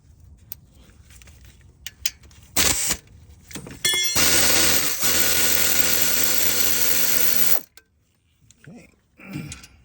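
A power tool tightens a part on a 2017 Nissan Sentra engine during oil cooler, upper oil pan and timing chain work: a short loud burst, then a sustained whirring run of about three and a half seconds, close up.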